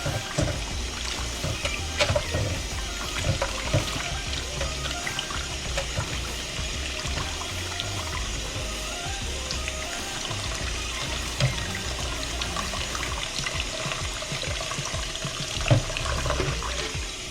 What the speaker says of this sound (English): you're gonna wash this because it's very important to wash your rice of any sort before using it